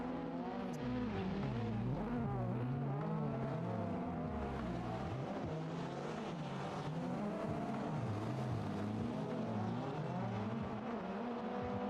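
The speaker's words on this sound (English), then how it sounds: "Someone drifting a BMW? I can hear a BMW engine from the game." Simulated BMW drift car in Assetto Corsa, engine wailing and bouncing on and off the rev limiter in continuous waves as it slides, with faint tire noise underneath, loud and close throughout.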